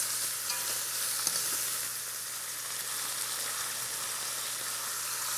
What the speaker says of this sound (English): I'm going to stir these onions around because I want the onions to pick up all the little brown bits